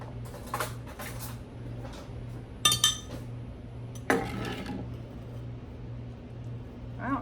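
A metal spoon scoops pumpkin puree, giving a few scattered clinks and scrapes against the container, with short bursts of clatter between quieter stretches and no speech.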